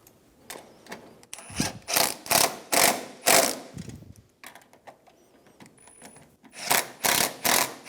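Hand ratchet snugging down the front shock mount bolts on a 2003-2007 Infiniti G35, a run of close, rhythmic clicking strokes in short bursts with brief pauses between.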